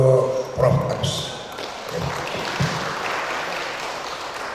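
Audience applause follows a professor's talk at a national seminar, a steady wash of clapping from a hall full of people, with a voice speaking over its start.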